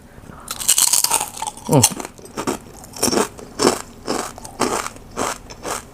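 Crunchy food at a Thai larb meal is bitten and chewed in a series of loud, close crunches, an opening bite followed by steady rhythmic chews spaced about half a second apart.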